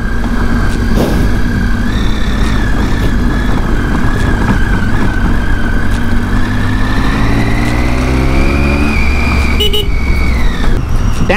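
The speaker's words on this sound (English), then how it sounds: "The engine feels butter smooth right now" A motorcycle engine drones loud and close while riding a high mountain road at about 11,000 feet between Jispa and Zanskar, its pitch rising and falling with throttle changes and a wind rush throughout.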